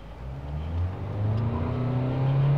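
A 2016 Opel Insignia Cosmo 1.6 CDTi diesel car accelerates hard, its engine note climbing steadily in pitch, heard from inside the cabin as a continuous, moderately loud drone with no talking.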